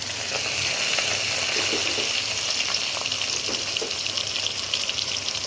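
Potatoes frying in oil over a low flame, covered, for chana dal fritters: a steady, even sizzle with faint crackles and soft scraping, close and continuous, with no one speaking.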